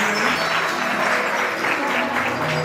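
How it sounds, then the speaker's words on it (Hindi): Applause from a gathered crowd at a Jain temple event in Delhi, a steady dense wash of clapping throughout, moderately loud and unbroken. "सभी जोरदार तालियों से।"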